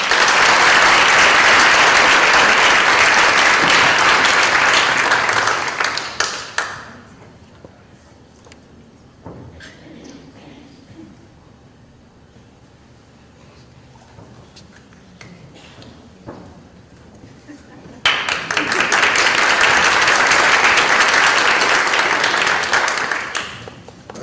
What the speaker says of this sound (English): another round of applause for Ms. Maida.